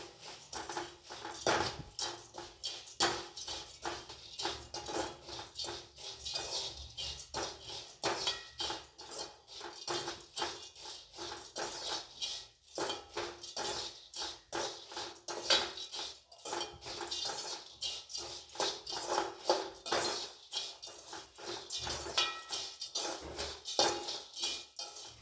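Puffed rice (mamra) with salt and turmeric is stirred in a bowl: a spoon scrapes and clinks steadily and close by for a long stretch, with no talking.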